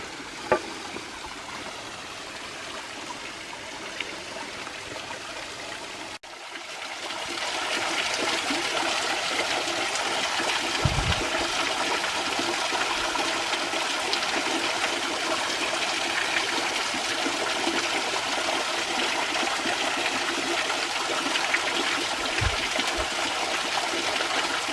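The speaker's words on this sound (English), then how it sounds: "It's just the third waterfall." Steady, broad rush of falling water fills the whole stretch, rising in intensity after a brief drop and continuing unbroken without any voices.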